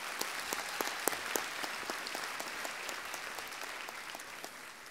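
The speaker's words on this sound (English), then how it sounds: "Jason, give it a round of applause for Jason, please" Audience at a Massey University graduation ceremony in Auckland applauds steadily, a dense wash of clapping that holds at an even level throughout with scattered sharper claps near the front.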